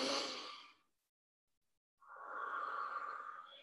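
A slow, deep breath drawn in and let out through the nose during aromatherapy yoga with oil rubbed on the hands, soft and close, split by a pause of near silence.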